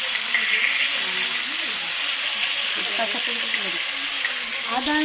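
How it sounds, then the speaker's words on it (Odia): Fish frying in a pan in a home kitchen, a steady, loud sizzle and hiss that persists throughout, with faint voices underneath. "ମୁଁ ଏପଟେ ମାଛ ଭାଜୁଛି ଆଉ।"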